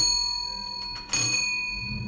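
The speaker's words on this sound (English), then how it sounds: "this is a mechanical bell" A mechanical front door bell from the 1800s, in a historic home now used as a museum, rings with sustained metallic overtones, then a sharp rattling strike partway through lets the tone swell again. No talk.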